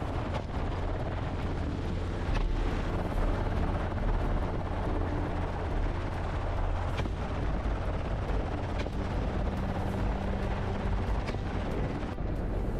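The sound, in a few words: helicopter rotor during hog hunt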